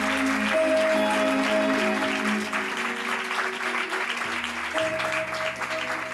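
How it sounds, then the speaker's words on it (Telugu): A church congregation claps steadily and fairly loudly throughout, the rhythmic applause blending with sustained keyboard-like musical tones. "కొట్టు చప్పట్లు."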